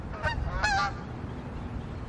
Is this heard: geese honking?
yes